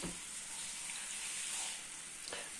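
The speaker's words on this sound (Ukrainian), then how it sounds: "Шкварчить, значить, розігрілось." Meat sizzles steadily in a hot pan for shpundra with beets, a continuous crackling hiss with a light clink of utensils near the end.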